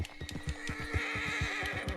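Wild horses in a cowboy video game whinny over a quick, steady clip-clop of hooves, the neigh fairly soft and the hoofbeats rhythmic throughout, with no talk.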